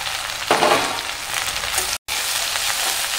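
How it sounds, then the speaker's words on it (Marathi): Spring onion greens sautéing in hot oil, a loud burst of sizzle as they hit the pan, then a steady crackling fry with faint stirring, briefly dropping out midway. "आणि यात आता पात टाकून तेलामध्ये छान परतून घ्यायची आहे."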